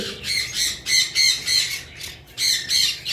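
Conure parrots kept for sale give repeated harsh, shrill squawks in quick bursts, close and fairly loud, with brief gaps between calls.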